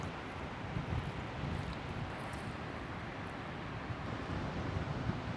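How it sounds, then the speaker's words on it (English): Strong beach wind gusts batter the microphone in a constant low roar and rumble, with no voices, just blustery noise throughout. "It's just so windy, really windy"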